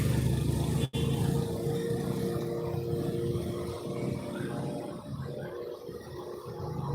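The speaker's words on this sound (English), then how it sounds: "I hear a motorcycle coming up the ramp" A motorcycle engine rumbles nearby coming up a ramp in Medellín, Colombia, its mid-pitched drone shifting as it climbs, with a brief dropout early and steady road noise throughout.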